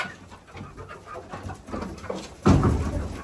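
Birds in a backyard chicken coop, with soft clucking and rustling throughout and a louder burst of activity close by near the end.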